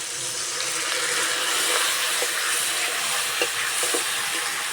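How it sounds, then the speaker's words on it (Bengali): Tamarind water poured into simmering cauliflower pickle in a pan, a continuous hissing sizzle with faint scattered clinks, heard alone without talk. "এবার তেঁতুল গোলা জলটা দিয়ে দেবো।"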